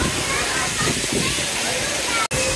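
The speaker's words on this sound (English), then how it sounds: "We are in the waterfall pool for babies." Water splashing and pouring in a baby waterfall pool aboard a Disney Wish cruise ship, a continuous loud rushing spill heard up close for a couple of seconds.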